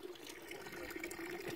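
Water flows steadily at the La Salette spring, a continuous close splashing and trickling stream with no voices.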